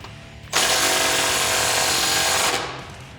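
A wrench tightens 15 mm exhaust clamps on a 2017-2022 Ford Super Duty 6.2L fitted with an MBRP 4-inch exhaust system: one loud, steady, whirring mechanical burst lasting about two seconds, then it winds down.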